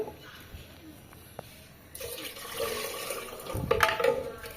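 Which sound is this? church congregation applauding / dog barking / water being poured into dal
water being poured into dal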